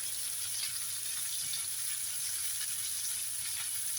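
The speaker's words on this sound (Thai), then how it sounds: "猪肉碎落去炒一炒佢啊" Minced pork stir-fries in a pan for Thai basil pork, giving a steady, close sizzle that hisses evenly throughout with no voices.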